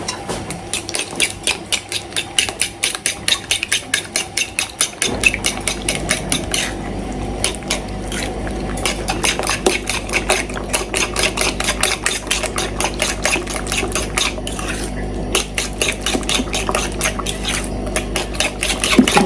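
Three eggs are whisked by hand in a bowl, rapid rhythmic metallic clicking close to the mic that pauses briefly midway, then continues at a fast steady pace.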